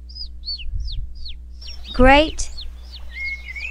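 A baby bird outside its nest gives a string of short, high chirps in a cartoon scene. The chirps repeat steadily, with a brief harsher call and a spoken word cutting in midway.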